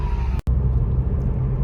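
A 2019 Subaru WRX exhaust with a Remark mid pipe rumbles low and steady while cruising at city speed, with a brief dropout near the start.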